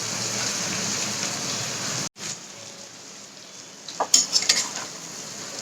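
Cooked potatoes coated in a mustard, garlic, cumin and red chili paste stirred gently in a pan, soft scraping and a low sizzle, then a cut and a cluster of sharp utensil clinks against the metal near the end.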